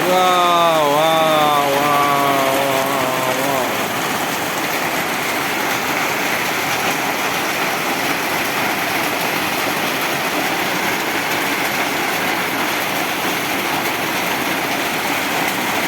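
Heavy rain hammers on the tin roof of a village house in Lakshmipur, Bangladesh, as a thick, constant roar. A wavering tonal sound, like a voice or horn, rides over it for the first few seconds before the rain continues alone.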